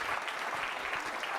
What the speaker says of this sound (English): give yourself a round of applause one time